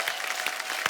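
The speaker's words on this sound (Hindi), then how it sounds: "जोरदार तालियां एक बार फिर से" A TV studio audience claps steadily, filling a short stretch with dense, even applause and no voices above it.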